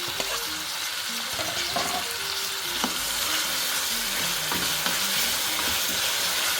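Onion and tomato sizzle and crackle steadily in a hot pan, with occasional scraping stirs, close and continuous; faint music plays underneath.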